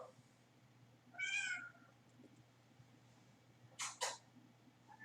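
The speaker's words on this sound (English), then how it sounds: "Hey, stop chewing on that. Get! Stupid cat." A cat gives a short meow, then after a pause two quick louder meows close together, all faint against a quiet room with a low steady hum.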